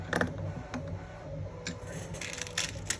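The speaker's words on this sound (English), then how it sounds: "when you're tightening these screws down" Screws being tightened during a 1/14-scale Kitty Next Gen D8 RC car kit build: close, dry mechanical creaks and clicks, with a sharper burst at the start and scattered ticks after, no talking.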